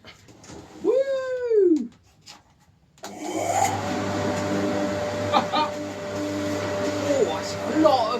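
An Axminster dust extractor blows air through its hose after standing out in the cold. A voice gives a rising whoop first, then a loud, steady rushing roar with an underlying hum starts abruptly and keeps going.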